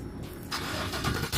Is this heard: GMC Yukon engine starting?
yes